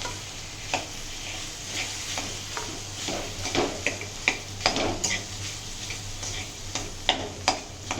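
Boiled potato pieces stirred in a pan of ghee, a steady low sizzle under sharp clicks and scrapes of a spoon against the pan at an irregular rhythm, close by.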